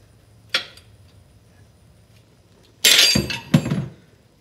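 A Suzuki axle is pried loose with a pry bar: a short metallic clink, a pause, then a burst of sharp clattering metal knocks and scrapes close by.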